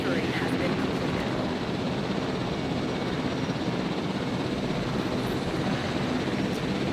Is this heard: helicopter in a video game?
yes